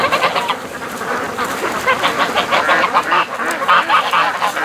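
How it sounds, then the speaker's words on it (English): Loud, dense honking from many geese close by, overlapping calls in an agitated, continuous chorus. "Listen to the geese. They're losing it here."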